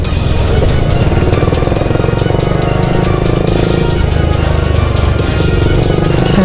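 A Honda Supra GTR motorcycle engine drones loudly and steadily from behind on the road, mixed with continuous traffic and engine rumble, with no speech.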